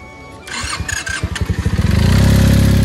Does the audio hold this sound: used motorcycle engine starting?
yes